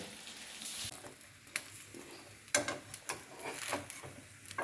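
A wheat-flour flatbread (atta roti) for egg rolls fries in a pan, giving a soft continuous sizzle broken by several sharp scraping and tapping bursts from turning or pressing it, close and moderately quiet with no talk.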